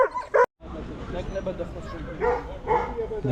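A hunting dog at a dog show yips and barks in a few short bursts, close by, while people talk over the noise of the show.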